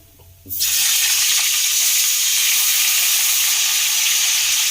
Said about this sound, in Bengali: তো আমি এই তেলের মধ্যেই আমি ফুলকপি দিয়ে দেব।